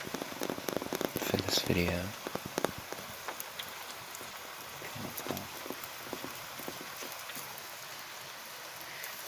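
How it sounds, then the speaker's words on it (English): Soft, steady rain falling on a cool, rainy night, heard through an open window as a faint continuous patter, with a person speaking over it near the start. "I chose a cool, rainy night"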